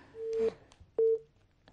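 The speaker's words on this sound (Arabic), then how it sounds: "للاسف الخط قطع" A telephone disconnect tone sounds after a call drops, two clean steady beeps roughly half a second apart, loud and close on an otherwise quiet line.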